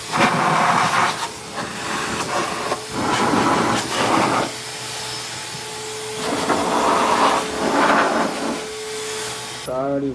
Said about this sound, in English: I'm going to hit it with the vacuum and hit it with the wax and grease remover after that